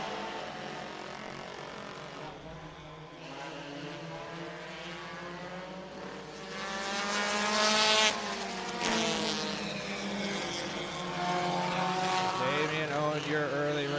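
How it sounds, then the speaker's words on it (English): Sprint cars from the Western Sprint Tour at Sunset Speedway Park roar into turns one and two as a pack, engines howling with rising and falling pitch, swelling louder as they pass, under a commentator's voice. "They sail off down into turns 1 and 2."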